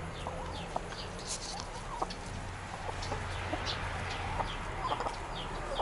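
Chickens in a farmyard in Kuban, Russia, on a hot June day cluck and chirp in short scattered bursts, fairly faint at a moderate distance, with no talking.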